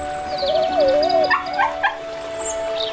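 A dog whimpering in a high, wavering, drawn-out whine, followed by a few short yips, heard close over a soft background.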